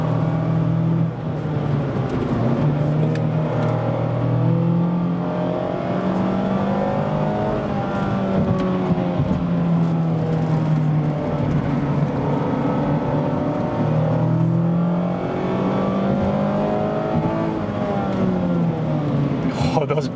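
A Mazda ND3 Miata engine rises and falls as the driver blips through heel-toe downshifts, the revs swelling and dropping in repeated waves while a voice talks over it.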